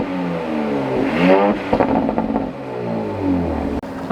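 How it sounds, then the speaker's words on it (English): Exhaust of a 2026 Audi SQ5 revving up and settling back, a close, loud engine note with rising and falling pitch sweeps heard alone. "so let's take a listen to the exhaust."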